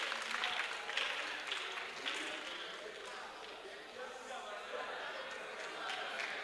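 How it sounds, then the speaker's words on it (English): A crowd in the hall at a university business challenge final keeps clapping for the winning school, sustained applause at a moderate distance, fairly even with slight swells. "More applause for UEW."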